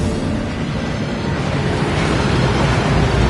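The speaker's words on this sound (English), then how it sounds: "That waterfall washes away all enchantments." Waterfall in the video game Hogwarts Legacy, a loud, dense, steady rushing roar of falling water filling the scene without pause.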